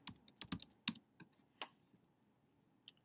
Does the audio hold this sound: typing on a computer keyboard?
yes